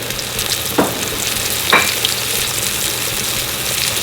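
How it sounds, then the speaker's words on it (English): Pork sirloin chops fry in hot oil in a skillet with a steady, close crackling sizzle throughout, broken by a couple of brief louder pops and spits. "be awful careful when you start this because you're putting it in hot oil"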